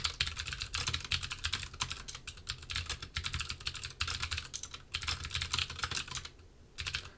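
Code being typed on a computer keyboard, with rapid, close, steady key clicks that come in bursts with short pauses between them.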